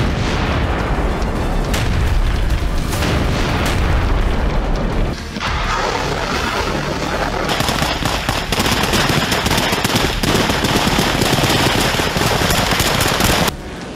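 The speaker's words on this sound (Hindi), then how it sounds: "रशियन आर्मी के हथियार वॉर ग्राउंड में प्रचंड आग उगल रहे हैं" Russian army weapons fire on a Ukraine war battlefield: dense, continuous gunfire with heavy booms and explosions, loud and unbroken, with no voices.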